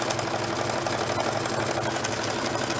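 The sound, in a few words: sewing machine sewing a straight stitch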